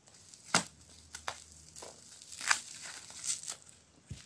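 Parcel packaging being torn and crinkled open by hand in several sharp, separate rips with quieter rustling between them, close and otherwise quiet.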